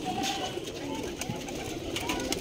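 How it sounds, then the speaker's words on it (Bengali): A high flyer pigeon coos in repeated low rolling calls close by, with other pigeons and faint human talk in the background at a tournament pigeon loft. "এটাও একটা হাই ফ্লাওয়ার কবুতর নাকি?"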